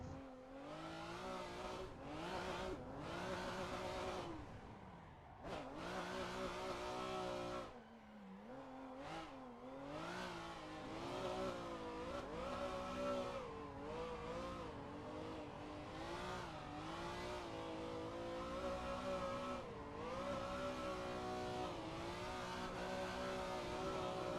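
A Nissan S13, probably SR20-engined and laggy on turbo, revs hard in a racing video game, its engine note repeatedly climbing and dropping through gear changes, loud and continuous.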